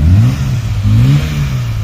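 An MG Metro engine revs hard at close range, rising and falling in steady surges for a couple of seconds, heard alone with no voices.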